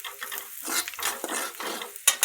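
Onion with homemade spice mix, chili powder and turmeric stirred around a pan, a quiet scraping and shuffling with a few light clinks against the metal, soft and close with no talk.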